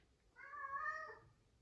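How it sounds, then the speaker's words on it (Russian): A house cat gives a single clear, drawn-out meow close by in a quiet home kitchen, with nothing else sounding around it. "Мишка, что это наш кот там хочет"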